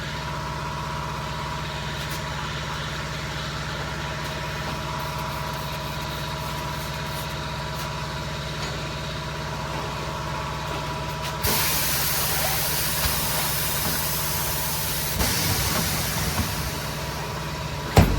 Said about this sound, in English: use the machine to break the bead on the inside